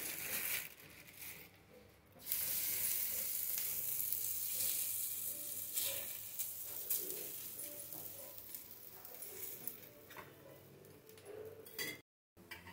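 Bottle gourd sorghum roti sizzles and fries in oil on a hot pan, a steady close hiss that swells after fresh oil goes in and carries on with faint scraping, no one speaking.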